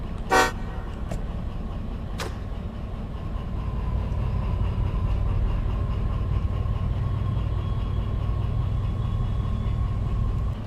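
An electric-diesel locomotive moving forward gives a steady low rumble, opened by a sharp horn toot and two brief metallic clanks, with a faint whine building over the running noise.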